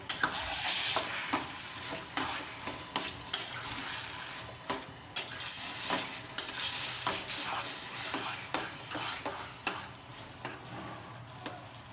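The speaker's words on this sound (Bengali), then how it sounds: "আবারও কিছুক্ষণ গ্যাসের ফ্লেমটা হাইটে দিয়ে ভালো করে কষিয়ে নেবো" Taro greens and chopped green chili fry over a high gas flame, with a steady sizzle punctuated by frequent irregular scrapes and knocks of a spatula against the pan, all close and without speech.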